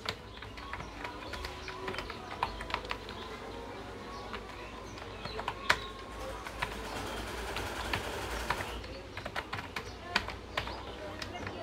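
Typing on a computer keyboard while working in Photoshop, a scatter of irregular soft clicks at moderate distance over a steady background hum, with occasional faint bird calls.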